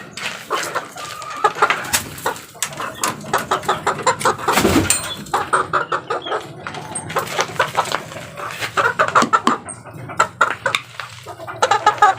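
Chicks and chickens peep and cluck in a steady, busy chorus, with many short calls overlapping close by and one louder squawk partway through.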